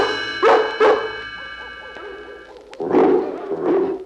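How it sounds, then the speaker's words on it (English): Dogs bark in the twilight bark from a 101 Dalmatians record, with a couple of quick loud woofs, a pause, then another burst of barking, all close and clear. "We'll use the twilight bark to alert all the dogs in London and in the villages nearby."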